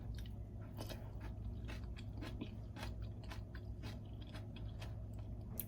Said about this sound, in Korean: 제가 한번 먹어볼게요.